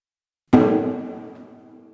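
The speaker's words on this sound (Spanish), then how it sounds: "El primer tambor suena así." A drum membrane is struck once, giving a single close, loud thump with a ringing decay that fades out over about a second and a half.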